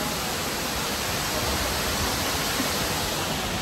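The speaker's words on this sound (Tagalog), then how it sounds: "welcome to Shifen Waterfall" Shifen Waterfall in Taiwan pours out a dense, unbroken hiss of falling water, loud and even throughout with no voices.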